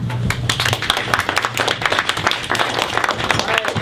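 An audience at a debate gives the standing debaters a round of applause: dense, steady clapping from many hands that continues throughout, with a voice faintly audible beneath.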